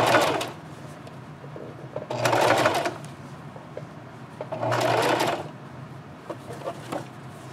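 A sewing machine stitches a scrub cap made from fat quarters in three loud bursts of rapid whirring, separated by quiet pauses with light handling clicks.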